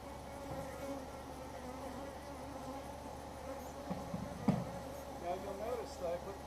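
Honey bees buzz around a hive during a honey harvest, a soft continuous drone with individual bees rising and passing nearby, low in level, while a person speaks faintly and handles equipment.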